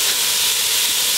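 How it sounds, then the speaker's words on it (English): Ground beef and minced onion browning in a hot pan give off a loud, dense, continuous sizzle with a steady hissing quality, close and unbroken, with no voices. "And we're going to brown this ground beef with the onion."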